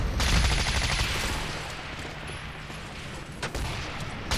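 Gunfire in the video game Starhawk, a loud, sustained burst of rapid automatic shots that slowly fades, then a couple of sharper hits near the end.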